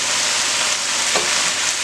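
Low-carb stir fry seasoned with ginger sizzles steadily in a pan, a continuous close frying hiss with a brief scrape of stirring partway through, no talking.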